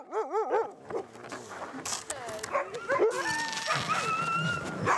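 Sled dogs in Ikerasak, a small village in Greenland, yelp, whimper and bark in a rising, wavering chorus, close and loud, with several animals overlapping and voices talking among them.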